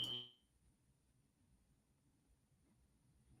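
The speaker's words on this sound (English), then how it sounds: "that's fire alarm testing" A fire alarm under test gives a single short, sharp electronic beep at the start, then only low background hum remains in a quiet room.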